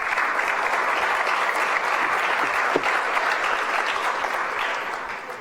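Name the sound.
audience applause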